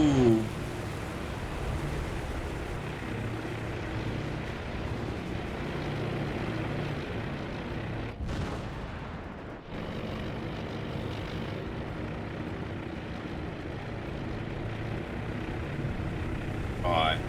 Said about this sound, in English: Enemy aircraft bomber down and going down.